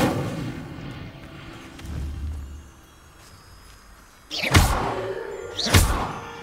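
Fire spell Incendio cast in the video game Hogwarts Legacy, two sharp loud whooshing bursts of flame near the end, after a quieter rumbling stretch with no talk.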